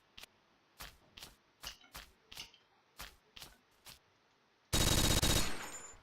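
Gunfire in the blocky shooter Blockade3D during a tanks mode match on a large open map: a string of sharp separate shots at an irregular pace, then a loud dense burst of sustained fire near the end.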